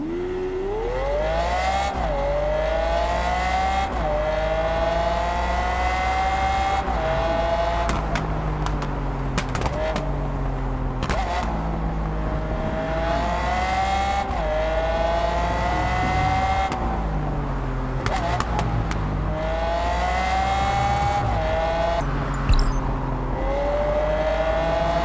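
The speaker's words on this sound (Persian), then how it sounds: "حالا صدای این چنتناریو رو هم یه گوش بدیم ببینیم که چقدر صدای ماشینا رو خوب درآورده" A Lamborghini Centenario engine in the Test Drive racing game revs up and down again and again through the gears, loud and close. It gives a steady run of rising pitch sweeps with sharp pops between the shifts, and no voices.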